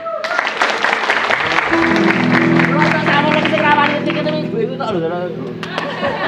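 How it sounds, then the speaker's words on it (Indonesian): Audience at a Javanese comedy show clapping amid loud chatter, with voices talking and laughing over and through the applause, close and busy. "Tepuk tangan."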